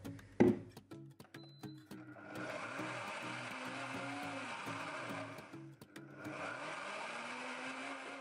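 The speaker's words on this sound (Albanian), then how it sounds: "Dhe tani këtë thjesht e kalojmë në mikser." A kitchen blender whirs steadily, blending a homemade hair mask of aloe vera gel and olive oil; the motor runs loud and continuous for several seconds, dips briefly, then resumes.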